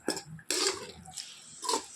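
Water left from boiled mutton is poured into a pan while making mutton milagu varuval, coming out in a few short splashy bursts at close range, each ending in quieter dribbling.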